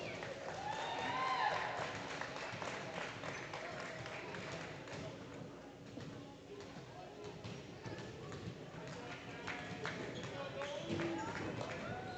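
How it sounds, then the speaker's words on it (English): Crowd applauding third grade basketball players at a Minnesota high school boys basketball game, a sustained patter of clapping filling a gym, mixed with crowd murmur, shoe squeaks and ball bounces. "Let's give a big round of applause to our third grade Warriors."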